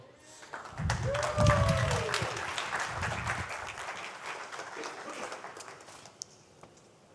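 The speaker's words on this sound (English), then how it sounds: "let's give him a warm applause." An audience at a conference stage applauds a speaker, dense clapping swelling quickly then slowly thinning out, with a few voices briefly heard near the start.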